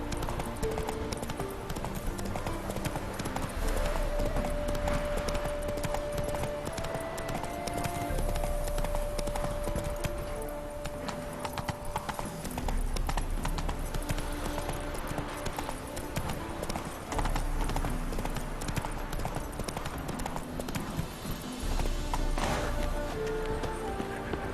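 Roach the horse gallops in The Witcher 3: Wild Hunt, a steady rhythmic clip-clop of hooves running on and on over game music and ambience.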